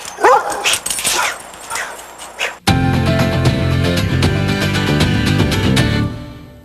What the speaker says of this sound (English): She's really barking at no one.